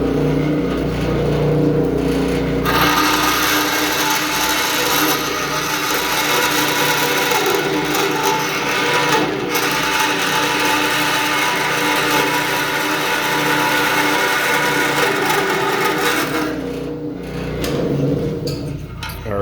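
Band saw, a wood-cutting saw converted for metal, slicing through 12 gauge mild steel: a loud, steady grinding whir with a dense metallic rasp, continuing for most of the clip before easing off near the end.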